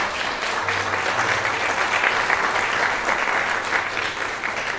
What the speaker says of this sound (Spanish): Yo le daré un aplauso al Señor.